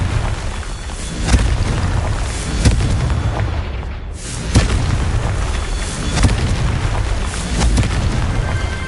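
Confringo explosive spell blasts in the video game Hogwarts Legacy, a series of loud booming impacts spaced roughly a second or so apart over a dense roaring background, with no talk.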